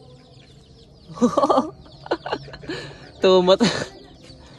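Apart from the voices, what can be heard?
hens clucking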